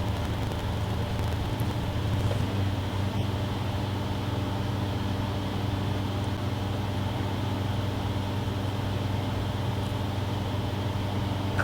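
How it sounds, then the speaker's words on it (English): A loud air conditioner drones steadily and continuously in a room, a broad even hum with low tonal bands and no breaks, filling the background throughout. "that noise you hear in the background is my air conditioner"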